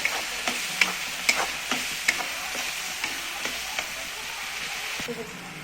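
Masala for a spicy cluster bean curry is roasting in a pan, giving a steady close sizzle broken by sharp ticks and scrapes as it is stirred.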